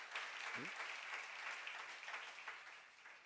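A church congregation claps steadily in continuous dense applause at moderate distance, a broad even wash of hand claps lasting throughout with a faint voice briefly underneath.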